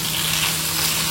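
Food fries in a pan with a steady, crackling sizzle, a continuous close-up bubbling and spitting that keeps an even level through the moment.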